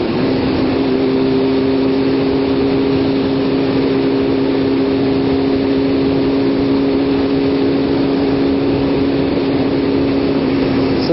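Motorcycle engine rumbling steadily at slow speed with slightly uneven throttle, a continuous low drone with a sustained hum running through all of it, loud and close, no talk.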